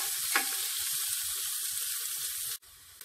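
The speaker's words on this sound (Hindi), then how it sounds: "अब हम इसमें प्याज डाल देंगे और 2 से 3 मिनट तक भून लेंगे।" Onions fry with grated ginger in a pan, a close steady sizzle with a stir-scrape near the start and soft music beneath, dropping away abruptly before the end.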